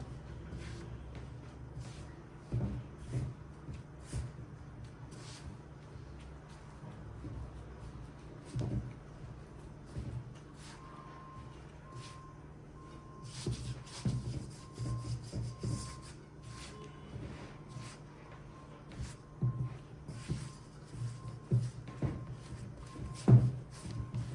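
Milk lavash dough kneaded by hand on a surface, soft rubbing and pressing in a steady rhythm with occasional dull thumps, close and fairly quiet throughout.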